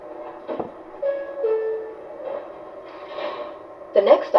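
An MTH R142A model subway train set runs with a soft mechanical rumble and short whining tones, broken by a few clicks and clunks, with a brief burst of voice-like sound near the end.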